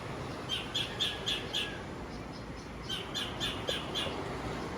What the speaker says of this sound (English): So he's fussing about a sparrow is on his wire.